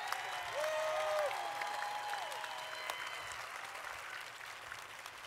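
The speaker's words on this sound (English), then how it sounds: "I would like for you to clap to acknowledge, to say thank you to our honored guest, the Honorable Alex Padilla" Audience applause at a college graduation ceremony, heard faint and distant as a broad wash of clapping from a large crowd, with a few faint tones drifting over it.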